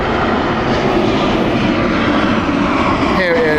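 Lufthansa airliner taking off at Heathrow Airport, a loud, steady roar of jet engines filling the whole stretch at close range, with a brief whine rising near the end.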